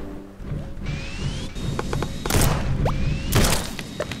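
Mech guns fire and mine in the Starbound video game, giving a run of heavy thunks and thuds with sharp impact bursts and rising electronic whines, all loud and close, with no talk.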